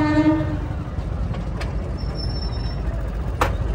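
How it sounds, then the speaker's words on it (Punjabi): Train passing close by, a low steady rumble of wheels with a brief high horn tone and faint metallic squeals over it. "ਆਹੀ ਲੰਘੀ ਲੰਘੀ ਟ੍ਰੇਨ, ਲੰਘੀ ਓਏ ਲੰਘੀ ਟ੍ਰੇਨ।"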